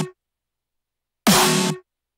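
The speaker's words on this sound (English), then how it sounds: "Snare sounds like this." Layered snare drum sample from an electronic music production, a single bright noisy hit lasting about half a second, loud and up front after a faint tail of a preceding sound.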